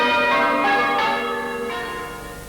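Village church bells ring for the Queen Mother in 2002, a loud close peal of overlapping bell strikes whose rich ringing tones hang and slowly fade.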